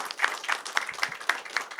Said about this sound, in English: Big round of applause, first of all, these three people